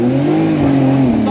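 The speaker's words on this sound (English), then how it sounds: "All right, R33 hot lap. Let's see what this baby can do." A Nissan Skyline GTR R33 on a hot lap gives a loud, close engine drone that holds a steady pitch through a short burst.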